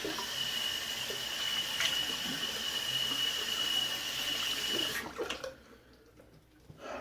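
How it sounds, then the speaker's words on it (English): Wet lathering of shaving soap with a brush, a steady swishing, watery hiss that runs continuously, moderately close, before it stops abruptly and leaves only quiet room tone with a few faint taps. "when I start lathering my third pass"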